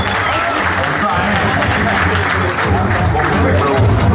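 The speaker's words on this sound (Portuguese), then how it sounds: "Salva de palmas" Audience applause at a battle event, a dense roar of clapping and crowd noise with someone talking over it.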